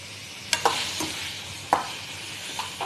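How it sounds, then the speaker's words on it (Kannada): Green tomatoes fry in a spoonful or two of oil in a pan, a soft steady sizzle with a few sharp stirring clicks and scrapes, close but quiet. "ಇದಕ್ಕೆ 1-2 ಸ್ಪೂನ್ ಆಯಿಲ್ ಹಾಕಿ ಸ್ವಲ್ಪ ಚೆನ್ನಾಗಿ ಎಣ್ಣೆಯಲ್ಲೇ ಇದನ್ನು ಹುರಿಬೇಕು"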